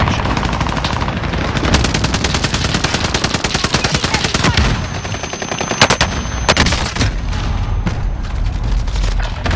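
Rapid automatic gunfire in Call of Duty Warzone, a loud, near, continuous barrage of machine-gun bursts with heavy booming shots and brief gaps, filling the whole stretch.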